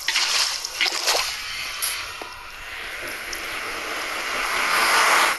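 Water splashing in the Minecraft video game, a burst of splashy sloshing near the start that eases into a softer, rushing water sound and then swells again toward the end.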